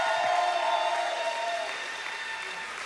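A church congregation in Montreal applauds and cheers with steady clapping, which fades gradually toward the end.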